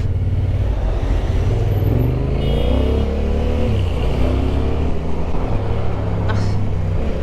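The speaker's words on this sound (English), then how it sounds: "So many traffic here." Road traffic in Malaysia heard from a moving motorcycle, with a loud, steady engine drone and wind rush up close, and other vehicles shifting pitch as they pass.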